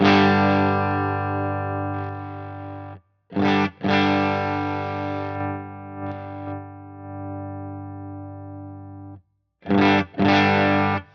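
An electric guitar played through an HX Stomp amp model with its bias control being set. Long sustained distorted chords ring out with a chorus-like shimmer, cut by short gaps and quick restrikes, loud and without any voice.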